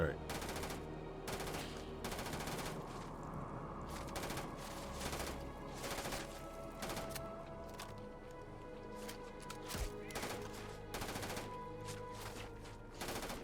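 Repeated bursts of automatic gunfire in the video game Starfield, close and sharp, coming in irregular volleys with brief gaps between them.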